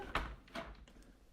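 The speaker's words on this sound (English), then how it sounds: "And the door sound also comes from the left." A door opens with a couple of soft thuds and creaks, quiet and somewhat distant, ending in a faint latch-like click.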